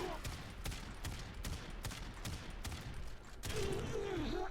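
Sobek shotgun in the sci-fi shooter Warframe fires a steady series of loud, evenly spaced blasts amid game noise, followed by a whining, wavering effect near the end.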